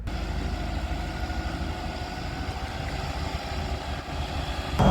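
A truck works at a reservoir excavation site where soil is dug and moved for raising the embankment, its engine a steady, fairly loud rumble droning continuously throughout.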